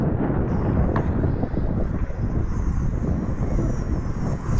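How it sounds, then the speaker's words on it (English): Gusty wind buffets the microphone outdoors during the windy maiden flight of an RC Focke-Wulf Fw-190 warbird, a constant loud rumble with a thin engine whine faintly above it. "It's also partly due to the wind. It is windy."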